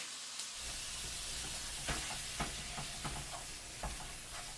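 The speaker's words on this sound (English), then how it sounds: "now your meat should be browning up pretty good right now" Ground meat seasoned with garlic salt browns in a pan with a constant sizzle, while a utensil stirs and breaks it up, giving regular scraping taps across the whole stretch.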